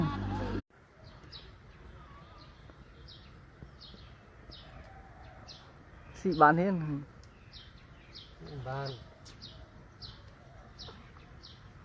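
A small bird gives short chirps in a steady, evenly spaced rhythm, faint and fairly close, while people talk nearby with a couple of louder voiced bursts.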